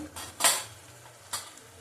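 Metal spoon clinks against a pot twice as ground cumin is added while cooking ghugni, a brief bright scrape-and-tap followed by a softer second tap, close and clear with no talking.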